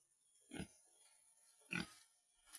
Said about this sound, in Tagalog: Yung baboy.